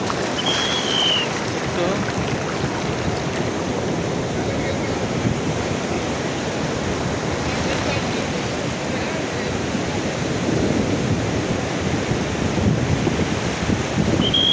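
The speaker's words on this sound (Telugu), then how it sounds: "సూర్యలంక బీచ్ చూడండి ఎంత అందంగా ఉన్నదో" Surf and wind at Suryalanka beach in Bapatla, a constant loud roar of breaking waves mixed with gusty microphone wind buffeting throughout, with no voices clearly heard.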